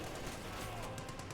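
MG-34 machine gun fire in Company of Heroes 2, heard as a dense, continuous rattle of bursts, moderately loud throughout with faint talk mixed in.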